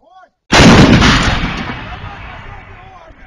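A single heavy artillery shot fired by militia near Luhansk, a sharp deafening blast close by that decays into a long rolling boom and echo.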